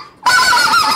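A Barbelly half-inch goose call with built-in back pressure is blown once after a short quiet lead-in: a loud, close, sustained buzzy honk that holds steady for most of a second.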